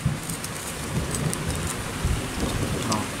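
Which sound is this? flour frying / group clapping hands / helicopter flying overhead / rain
rain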